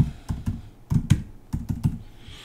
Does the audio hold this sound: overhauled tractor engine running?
no